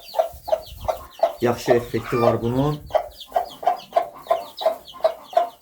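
Chicks and hens on a farm cluck in a steady rhythmic series of short, close calls, with someone briefly talking over them midway.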